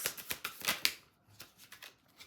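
A tarot card deck being shuffled, with several quick riffling bursts in the first second followed by a short pause and a few lighter card flicks, close and clear with no talking.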